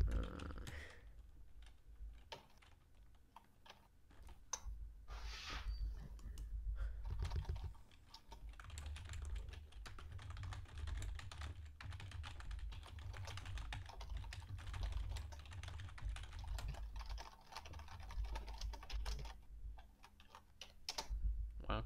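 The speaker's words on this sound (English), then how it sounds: "Chris, why are you typing so loudly?" Loud, fast typing on a computer keyboard, a steady stream of sharp key clicks that runs for about twenty seconds with brief pauses.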